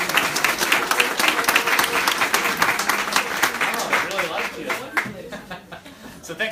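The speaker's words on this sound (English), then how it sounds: "Give them a round of applause." Audience applause for a panel discussion, a dense burst of clapping that fades over several seconds, with chuckles and voices mixed in.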